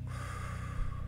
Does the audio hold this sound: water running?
no